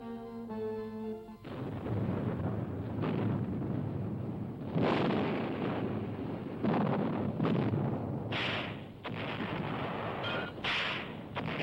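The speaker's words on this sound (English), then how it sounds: "this Christmas, the artillery pounding is the worst of the siege." Artillery bombardment during the wartime siege of Bastogne: heavy, continuous rumbling blasts and booms roll together, loud and dense, with a brief tonal sound at the start and no voices.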